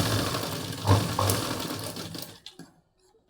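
Sewing machine stitching a fall onto a saree hem, a steady close motor whir with rhythmic needle chatter for about two and a half seconds before stopping, leaving near silence with a faint click at the end.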